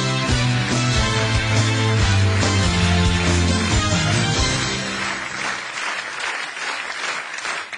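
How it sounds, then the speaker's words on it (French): Loud crowd applause greets a lottery winner walking on stage in a comedy sketch. Upbeat music plays under the clapping at first, then fades, leaving a dense, sustained ovation. "accueillons monsieur Mouloud sous vos applaudissements"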